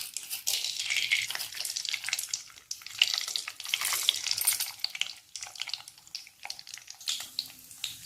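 Mustard seeds and urad dal frying in hot oil as the tempering for semiya upma: a steady, fairly soft sizzle scattered with quick crackling pops and small spits, heard close up with no voices.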